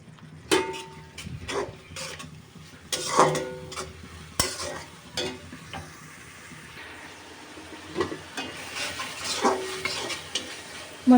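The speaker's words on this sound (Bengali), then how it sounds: "এবার মশলাটাকে আমি ভালো করে কষিয়ে নেবো" Masala with small shrimp stirred and fried in a pan, a soft sizzle under repeated scraping and clinking strokes of a spoon against the metal, coming in irregular bursts.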